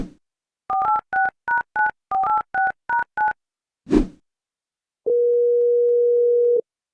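A cartoon telephone being dialed: a quick series of about eight beeping keypad tones, one short thump, then a steady dial tone held for over a second. The sound is clear and close, with no talking.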